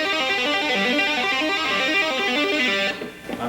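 Rapid tapped lick on the third string of an overdriven electric guitar repeats its rising and falling note pattern loudly and evenly, then breaks off with a brief quieter tail.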